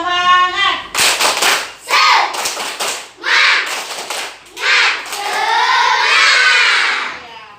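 Schoolchildren in a classroom chant loudly together in rhythmic bursts punctuated by sharp group claps, ending in a long shouted cheer.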